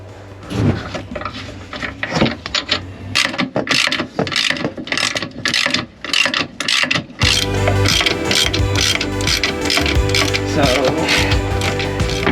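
Repeated ratcheting clicks and metallic clanks from a wrench backing off the bolts that clamp a sailboat's rudder quadrant onto its shaft, close and busy, then a denser, steadier mechanical rattle in the second half.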